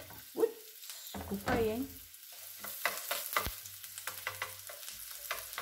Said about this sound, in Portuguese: já refoguei um pouquinho do alho, já coloco a minha cebola